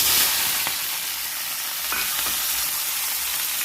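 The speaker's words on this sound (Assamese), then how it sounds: "এতিয়া আপুনি কাটি থৈ দিয়া পিঁয়াজ আৰু জলকীয়াখিনি দিম।" Onions and green chillies sizzle in smoking-hot oil in a wok, a steady broadband hiss with a few soft stirring scrapes, close and continuous with no talk.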